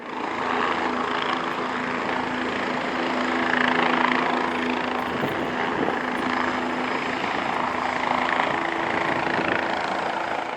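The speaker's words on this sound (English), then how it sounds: "Helicopter actually just went by and they did a whole bunch of circles right here" A search and rescue helicopter circling over a river makes a steady rotor thrum and engine whine throughout, swelling slightly louder midway as it passes overhead.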